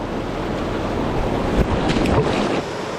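A creek stream flows through woods in a steady, loud, rushing wash of water with a few splashy bursts near the middle, continuous from start to end with no voices.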